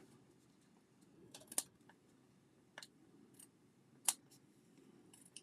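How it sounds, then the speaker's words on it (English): Scissors snipping excess paper from the back of a handmade layered card: several soft, sparse cuts with two sharper snips standing out, close and quiet with no talking. "I'm going to trim off the extra pieces I don't need from the back"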